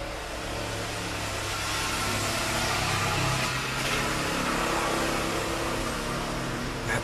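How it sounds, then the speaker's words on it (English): A car engine rumbles steadily outside, a continuous mid-pitched motor drone that swells slightly in the middle as the vehicle passes, with broadband road noise throughout and no voices. "That car, as it is a no-deal car"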